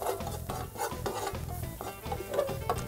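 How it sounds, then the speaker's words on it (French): Garlic is stirred with cumin in a pan, a utensil scraping in short repeated strokes over a soft background sizzle, close and fairly quiet. "On mélange notre ail."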